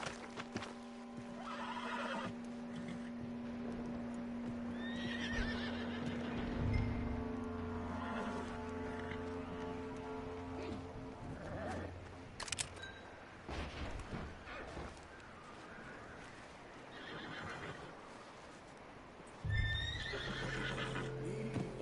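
A horse in the Western video game Red Dead Redemption 2 neighs and whinnies several times, with clip-clopping hooves and game ambience between the loud calls.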